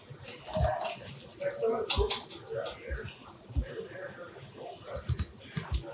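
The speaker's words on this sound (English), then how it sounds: "Of course, you want to drain your noodles." Water pouring and splashing as cooked noodles are drained, an uneven gushing with clatter from the pot, heard under a person talking.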